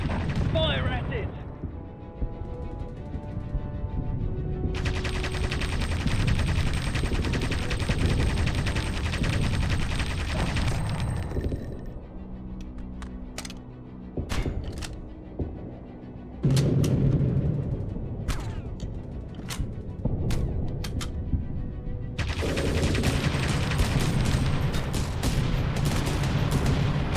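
Rapid bursts of gunfire and explosive booms from aerial combat in the video game Aviators, loud and repeated across the clip over a layered soundtrack and engine drone, with a voice speaking in places.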